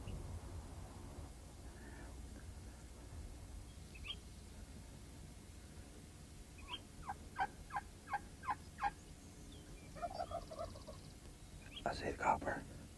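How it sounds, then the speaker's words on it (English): Wild turkey hen calling outdoors, a faint run of short yelps repeated in a quick series against quiet woodland background, followed by a few more scattered calls. "We'll let this hen do the calling for us"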